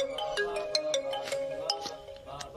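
A phone rings with a bright, chiming melodic ringtone, a rapid string of clear repeated notes carrying steadily through the moment, close and fairly loud in a comedy movie scene.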